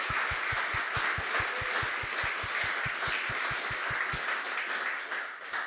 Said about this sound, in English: applaud yourselves as well for making it